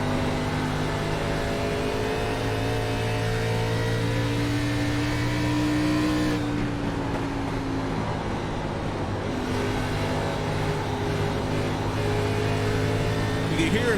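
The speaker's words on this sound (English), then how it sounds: "You can hear and listen to that driver throttle on that gas pedal." A video game ARCA Series race car engine at Rockingham drones and revs continuously, its pitch rising and falling as the throttle changes, loud and steady throughout.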